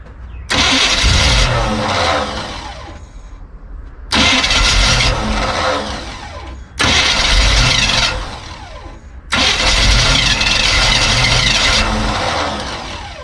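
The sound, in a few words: classic milk truck engine starting and running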